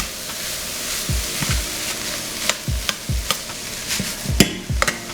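Corn and linguiça sausage with jalapeño stirred in a hot pan: a spoon scrapes and knocks against the pan in a quick irregular rhythm over a soft sizzle, close up, no voices.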